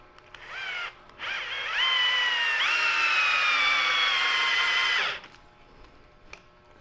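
Power drill driving a glue-coated screw into wood, a short whine, a brief pause, then one sustained loud whirring run with rising pitch that cuts off sharply, followed by near silence.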